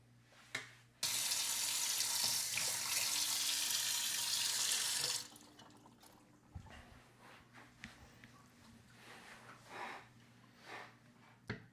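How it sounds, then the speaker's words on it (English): A hot water tap gushes steadily into a sink for about four seconds while a microphone is rinsed, then shuts off. Soft clatter and handling noises follow in a quiet indoor room. "I just ran it under the hot water tap."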